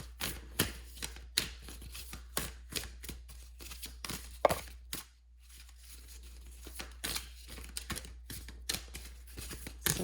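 A deck of tarot cards is shuffled by hand in short, crisp bursts of riffling and flicking. A brief pause falls midway, and the shuffling stays quiet and close throughout.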